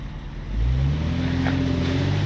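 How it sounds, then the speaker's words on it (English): A vehicle fitted with snow tracks revs and accelerates to push through deep snow, its engine note rising and holding loud and close after a brief quieter start. "Now put it in drive and give it a good little bump there to try to get through that spot."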